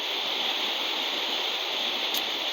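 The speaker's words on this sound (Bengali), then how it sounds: "দেখেন আমাদের পুকুরের মধ্যে বৃষ্টির পানি কি করতেছে" Rain pours onto a pond and taro leaves, a steady, close wash of hissing patter without pauses or voices.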